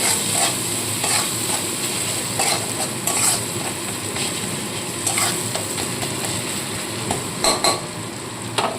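A stuffed pointed gourd dish frying in a pan with salt and chilli powder, stirred with a spatula; a continuous close sizzle with repeated scraping strokes and occasional clinks against the pan.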